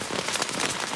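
Steady soaking rain falling on a hiking trail along the NCT, a dense, continuous hiss of drops with no let-up, fairly close and alone without any talk.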